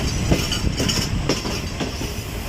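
Train slowing as it passes a railway station between Karachi and Hyderabad, rolling close by with a loud rumble and the rhythmic clack of wheels over the rails.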